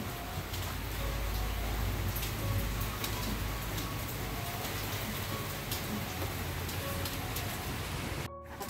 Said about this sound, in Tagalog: Dito sa labas, ayan, umuulan.